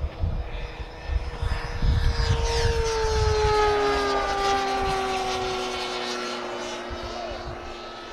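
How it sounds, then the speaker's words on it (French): A Pilatus PC-21 turboprop trainer's turbine engine running close by, a loud steady roar with whining tones that slowly glide downward as it winds down. "Voilà, vous pouvez entendre le réacteur, la turbine."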